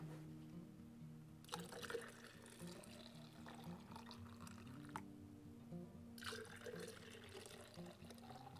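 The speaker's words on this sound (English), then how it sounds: "And then we will pour in the milk." Raw milk poured into a glass Ball jar for homemade yogurt, a faint, continuous liquid trickle with splashing surges over several seconds, no speech.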